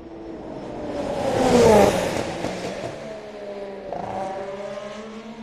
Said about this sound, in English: Here comes the Toro Rosso.